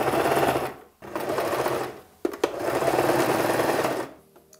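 Sewing machine stitching bias tape onto fabric, close, in bursts of rapid mechanical whirring broken by brief pauses and a couple of clicks, with no talking.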